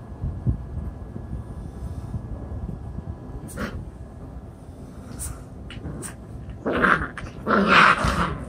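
Dogs growling and snarling in play, with short bursts of louder scuffling growls near the end over a low background rumble.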